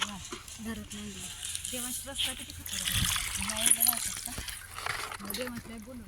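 Water splashes and trickles in bursts as chicken is rinsed outdoors on a farm, with people talking over it throughout.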